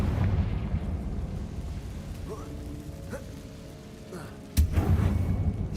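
A Confringo fire spell goes off in Hogwarts Legacy as a sudden, loud explosive burst near the end of the clip, set against a rumbling game background with smaller effects before it.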